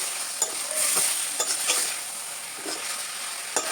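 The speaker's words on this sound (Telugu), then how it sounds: "మనం మంచిగా కలుపుకోవాలి మంచిగా ఇలా కలుపుకోవాలి" Village-style chicken curry is stirred in a pot, with a soft steady sizzle beneath it and light scraping and tapping of a spoon against the pot at irregular intervals, close up and unaccompanied by talk.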